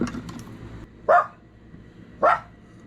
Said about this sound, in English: quit that barking